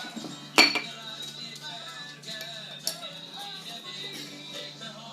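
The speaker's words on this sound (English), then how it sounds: "I'll just stir with a plastic knife." A plastic knife stirs a homemade snow storm potion in a container, with a sharp clink near the start, another light knock later, and soft scraping in between.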